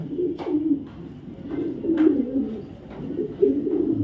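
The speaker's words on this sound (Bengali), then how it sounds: "এটা হলো গিয়ে আপনার একটা ব্ল্যাক রেসার নর কবুতর" A black racer male pigeon coos close by in a repeated low, throaty rhythm of several phrases, alone and steady.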